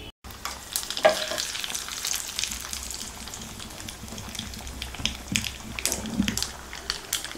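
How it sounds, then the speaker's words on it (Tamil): Mustard seeds, urad dal and dried red chillies crackle in hot oil and are poured into simmering drumstick-leaf sambar, giving a steady close sizzle with a louder splash and burst of frying near the start. "2 கொதி வந்தோடனே நம்ம கடுகு உளுந்தம்பருப்பு வரமிளகாய் தாளிச்சு கொட்டிக்கலாங்க."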